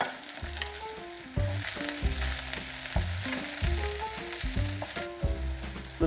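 Vegetables sizzling in hot vegetable oil for a spice bag, a loud crackling fry with clattering stirs and low metallic knocks of the pan throughout, no talking.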